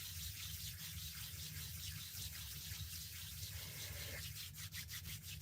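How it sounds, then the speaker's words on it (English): Hands rubbing together during a guided meditation, a steady soft dry friction hiss that continues evenly, with a few light taps near the end. "just start to rub your hands together"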